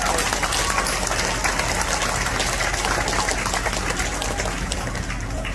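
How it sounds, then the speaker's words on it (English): Applause for BART employees at a BART 50th birthday celebration sounds as a dense, steady wash of clapping from a crowd, continuous and moderately loud throughout. "Let's give a round of applause for all of our BART employees."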